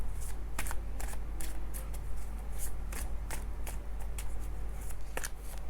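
Tarot cards being shuffled by hand, a steady run of crisp riffling flicks and soft slaps close up, with no talking over it.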